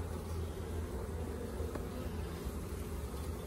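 Honey bees crowd the frames of a nuc colony, and their buzz is a steady, dense, close drone that holds evenly from start to end with no speech.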